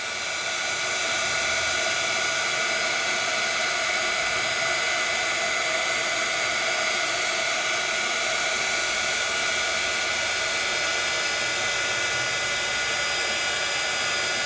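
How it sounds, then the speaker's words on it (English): A craft heat tool for embossing blows hot air in a continuous, even whoosh, held steady and close for the whole stretch with no voices. "I'm going to move my heat tool"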